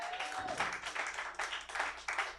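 A comedy club audience applauds at a stand-up show, a short burst of clapping from a modest crowd, fairly faint and heard from some distance, with rising and falling waves of claps.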